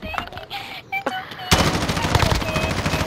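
Bursts of automatic gunfire in the video game Call of Duty: Modern Warfare, sporadic shots at first and then sustained rapid fire, with game effects in the mix.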